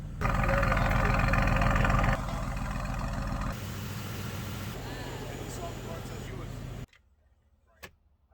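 A Mercedes-AMG GT S engine idles with a deep, steady rumble that shifts down in level partway through, then cuts off, leaving near silence with a faint click.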